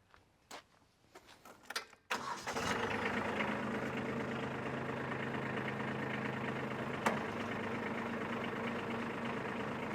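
A tractor engine turns over and fires after a few clicks and clunks, then settles into a steady, moderately loud idle nearby, with one sharp metallic tick partway through.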